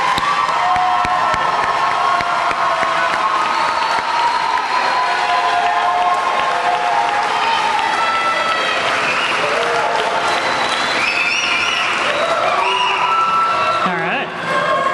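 A graduation audience at Wilson breaks into loud, sustained applause and cheering for the graduates, with whoops and children's shouts in a dense, continuous roar that carries on throughout.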